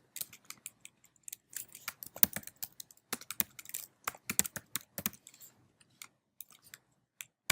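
Rapid, close key clicks from a Mac computer keyboard as code is typed, with irregular bursts of taps and short pauses, crisp and quiet with no speech.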